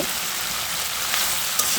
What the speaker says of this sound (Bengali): মাছটা দিয়ে দিয়েছি, এখন আমি এটা একটু কষিয়ে নেব